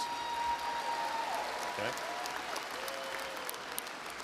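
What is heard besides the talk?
graduates' audience applauding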